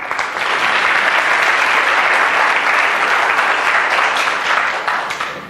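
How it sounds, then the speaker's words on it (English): An audience at an organizational culture talk applauds the keynote speaker with loud, continuous clapping that swells in quickly and holds for about five seconds before easing off. "A round of applause for him."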